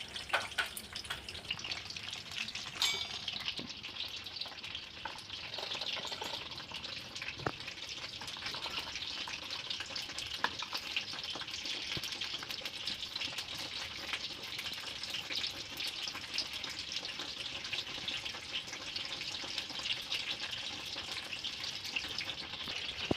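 Eggplant (brinjal) pieces frying in a pan, a steady close crackling sizzle that runs unbroken and fairly loud throughout with a few faint clinks.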